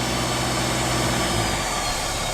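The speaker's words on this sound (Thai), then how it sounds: "รถเร่งเครื่องเอง ไปดูเครื่องว่าเครื่องเร่งเอง" A car engine revving by itself, a throttle fault, runs steadily at a loud, even pitch, holding a raised idle throughout with a slight dip near the end.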